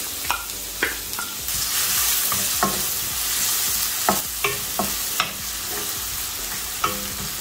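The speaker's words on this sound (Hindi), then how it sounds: "मैंने जो लहसुन और अदरक चॉप करके रखा था वो मिला दूंगी" Chopped garlic and ginger hit hot oil in a kadai already holding asafoetida, a dried red chilli, a bay leaf and cumin. A steady sizzle runs throughout, broken by repeated sharp spoon scrapes and taps, and no one speaks.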